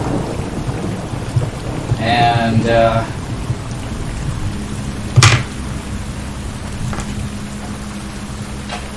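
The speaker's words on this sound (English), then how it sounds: "you can hear in the distance again that rumble of the storm" A thunderstorm rumbles in the distance with steady rain falling, one sharper crack standing out midway and a voice speaking briefly near the start.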